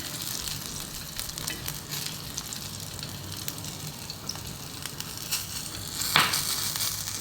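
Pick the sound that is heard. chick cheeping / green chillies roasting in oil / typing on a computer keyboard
green chillies roasting in oil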